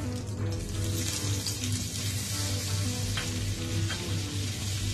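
Cumin powder and crushed red chili frying in a pan for lentil soup, a steady close sizzle running throughout with faint stirring clinks.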